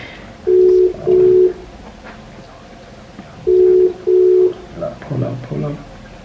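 Outgoing telephone call ringing back in two pairs of steady electronic tones, a short gap between each pair, followed by a voice answering at the end.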